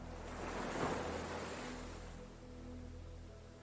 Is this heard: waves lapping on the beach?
yes